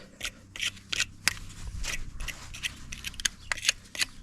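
Small steel brush scraping corrosion off car battery terminals on a 2018 Ford Fiesta S, a series of short, rough, bristly scrapes in an irregular rhythm, close up with no talking.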